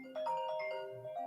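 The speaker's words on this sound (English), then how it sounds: "Phone call." A phone ringtone for an incoming call plays as a steady electronic melody of sustained tones, moderately loud and continuous, with no talk over it.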